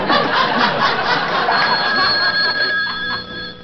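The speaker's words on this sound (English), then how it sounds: "A phone call. Very strange. Middle of a show." A telephone rings in the middle of a Conan O'Brien late-night talk show, its repeated electronic trill sounding over studio audience chuckles and laughter.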